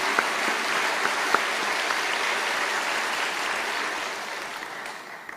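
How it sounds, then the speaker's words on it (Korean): A church congregation at a Sunday worship service applauds two deaconesses, a steady wash of many hands clapping that gradually fades toward the end, with a few sharper claps standing out early. "우리 귀한 두 분의 권사님께 큰 박수 함께 드립니다"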